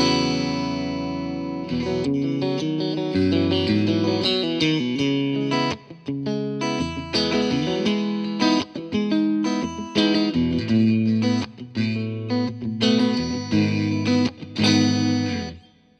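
G&L Legacy Tribute electric guitar run through effects, playing a continuous melodic line with distortion, chorus and reverb, loud and sustained for the full length, then fading at the end.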